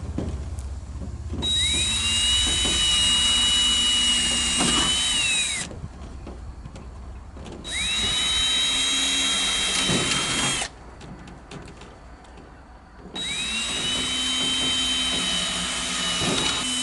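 Power drill driving screws through Tuftex corrugated greenhouse roof panels into reclaimed wood framing: three long whining bursts, each several seconds, rising then holding steady, with short quiet gaps and light handling noise between.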